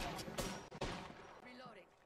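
Several sharp gunshots in Apex Legends, crisp and fairly close, punctuate the first second, then tail into game effects, with a voice speaking over parts of it.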